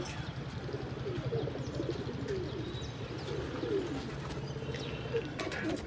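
Pigeons near a high school rooftop loft, steady soft cooing and scattered calls over a continuous low outdoor murmur, no talk.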